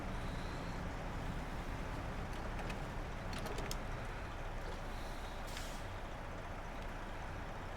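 A truck engine in the video game SnowRunner drones steadily and quietly, with short sharp air-brake hisses breaking through midway and again near the end.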